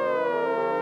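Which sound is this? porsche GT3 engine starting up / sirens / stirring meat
sirens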